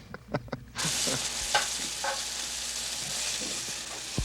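A few clicks and taps give way to a loud, steady sizzle as mushrooms hit a hot pan and fry, with occasional stirring scrapes over the hiss.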